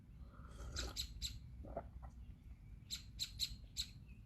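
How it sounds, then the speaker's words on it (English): Birds chirp outdoors on a quiet morning, giving short, bright, repeated calls in two small bursts over a low, soft background rumble. "Hear the birds?"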